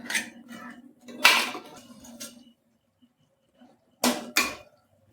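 Spoon scraping and clattering against a pan while three tomatoes are stirred into a crab pepper masala, in two short bursts separated by a quiet gap.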